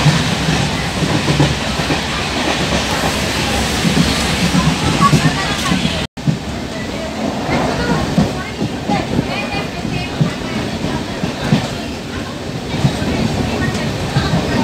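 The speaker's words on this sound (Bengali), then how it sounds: "এখন ট্রেন পৌঁছে গেছে রানাঘাটে, যেটা রোজই তোমরা দেখো ভিডিওতে।" A train pulls into Ranaghat station with a loud, steady rumble and rattle of carriages close by. The noise drops out for an instant midway, then carries on unbroken.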